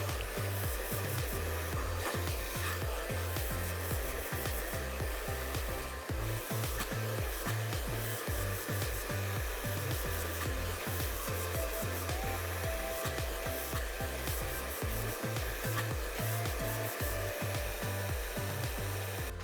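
A hair dryer blowing steadily and close while layered hair is blow-dried over a round brush, with a rhythmic low rubbing and thumping as the brush rolls through the hair, and no voices.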